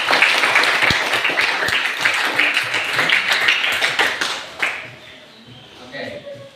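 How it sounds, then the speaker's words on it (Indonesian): Students in a classroom applaud with quick, close clapping for several seconds that fades out, leaving quieter room noise and a bit of voice. "Tepuk tangan."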